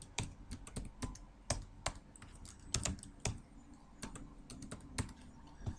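A username and password are typed on a computer keyboard in a quiet room. Key presses come in irregular, crisp clicks and short bursts, close and clear, with no talking.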